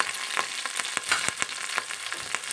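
Curry leaves dropped into hot oil while cooking Telangana sambar (pappu pulusu), giving a steady crackling sizzle with sharp pops and brief stirring scrapes, close and moderately loud.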